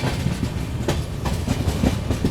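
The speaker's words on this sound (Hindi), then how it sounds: "यहाँ पर अपनी ट्रेन को लूप लाइन पर लगा दिया है।" A passenger train on a small station's loop line rolls along with rhythmic clickety-clack wheel beats over rail joints, loud and close, with a low rumble between the regular clacks.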